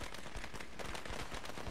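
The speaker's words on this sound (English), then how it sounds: "Ooh, fireworks." Firecracker fireworks going off in the video game Dead Rising 2: a rapid, dense string of sharp popping bursts, loud and crackling throughout the short stretch.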